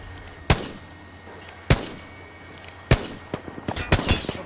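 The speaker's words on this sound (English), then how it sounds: "Opening fire." Gunfire in the video game Apex Legends: three sharp, loud single shots about a second apart, then a quicker burst of several shots near the end.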